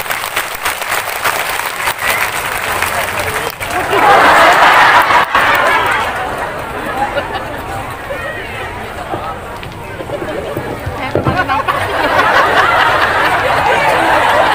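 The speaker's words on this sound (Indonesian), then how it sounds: "Beri tepuk tangan Bapak Ibu" Audience applause at an Indonesian religious gathering, uneven bursts of clapping that surge loudly twice amid crowd chatter and laughter, with voices throughout.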